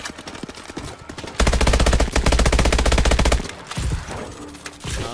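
Automatic gunfire in the Call of Duty: Advanced Warfare campaign, a loud rapid burst of shots lasting about two seconds, followed by a few scattered quieter shots and background game noise.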